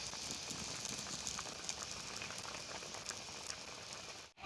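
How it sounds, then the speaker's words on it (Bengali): Mangoes simmer in a covered pot in a village kitchen, giving a steady, soft bubbling and hissing boil with faint crackles. It is quiet and continuous, with no talking. "দেখুন বন্ধুরা, আমাদের আম সিদ্ধ হয়ে গেছে"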